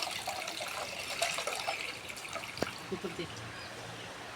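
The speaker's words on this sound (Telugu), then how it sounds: "టిఫిన్కి పప్పు అయితే కడుగుతున్నాను" Lentils being washed in water make soft swishing and trickling sounds, with a few drips and splashes, while someone briefly speaks over them.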